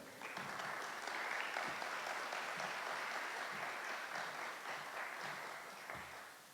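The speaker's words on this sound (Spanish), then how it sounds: "fuerte aplauso para él" Audience applause welcoming Oscar Chunza, director of Centro Cultural Bogotá, at a cultural talk event: a steady, dense wash of many hands clapping, moderately distant and fairly quiet, sustained evenly throughout.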